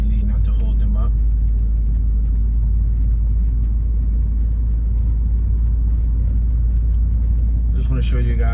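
Steady low engine rumble and road noise from inside a car driving through a Palm Coast, Florida neighborhood, constant and close, with someone talking briefly at the start and end.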